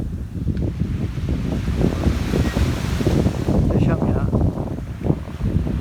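Wind gusts across a surfcasting beach while sea waves wash in, a constant blustery roar with rolling surges of surf and some microphone buffeting.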